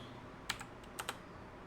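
Quiet typing on a computer keyboard during web coding work, a handful of light, close key clicks in two small clusters against a faint background hum.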